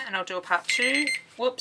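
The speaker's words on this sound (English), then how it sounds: "That's my alarm to not let me talk for more than 15 minutes." An alarm goes off briefly beneath a person speaking, a short electronic tone that shows through the talk for about a second.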